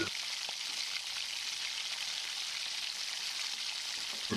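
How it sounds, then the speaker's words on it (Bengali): Onion and ginger-garlic paste frying in oil in a wok, a soft, even, continuous sizzle heard close and faint without any voices. "এরপর আদা রসুন বাটা দিয়ে ভালো করে কষিয়ে নেব"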